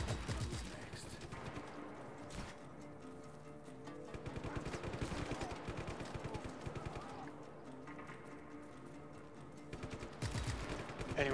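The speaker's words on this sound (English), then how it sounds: "Oh, somebody's shooting me now." Dense rapid gunfire in the Just Cause 3 video game fills the whole stretch, with sustained automatic bursts and fusillades aimed at the player, loud and continuous over game music and effects.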